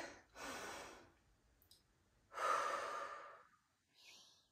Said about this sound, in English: Deep inhale here.